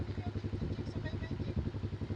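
Motorcycle engine running low and steady, chugging as it pushes through floodwater from a typhoon in a flooded town in Daanbantayan; the rhythmic mid-low putter stays close and constant, with people talking over it.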